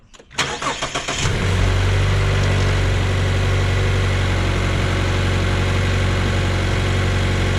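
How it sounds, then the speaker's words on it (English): A Mazda CX-5 engine cranks and catches after an oil service, then settles into a steady, loud idle that continues evenly without talk. "We're just going to start up the engine and make sure that oil goes throughout the whole engine"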